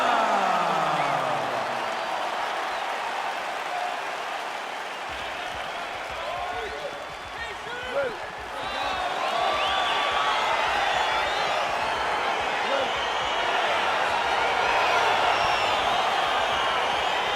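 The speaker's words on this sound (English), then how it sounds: "crowd getting excited as this fight gets underway" A UFC heavyweight fight crowd cheers and applauds as the bout begins, a dense continuous roar with scattered whoops throughout, under a commentator talking.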